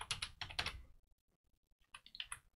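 Keys clatter in two quick bursts on a computer keyboard as a password is entered during an Ubuntu 18.04 install, close and crisp, with a brief pause between runs.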